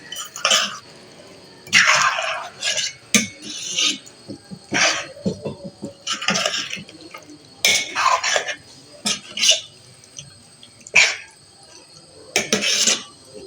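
Half a glass of water is added to mince cooking in a pot, with scattered clinks of utensils against the pot and faint splashes at close range; no speech.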